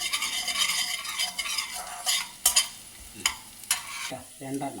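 Ginger and garlic sizzle in a hot pan while being stirred, for an appam and stew meal; a steady frying hiss runs throughout, broken by several sharp scraping strikes of a spoon against the pan, with no talk.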